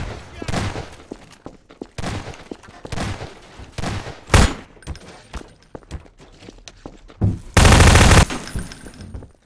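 Rapid bursts of gunfire in the Garry's Mod prop hunt game, loud and close, with single shots and a longer burst near the end, mixed with footsteps and excited talk.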